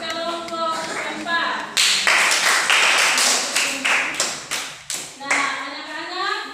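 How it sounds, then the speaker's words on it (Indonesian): Children in a classroom clap for a group of students: a quick burst of rhythmic hand claps, loud and close, with voices heard before and after the clapping. "tepuk tangan dulu untuk kelompok 4."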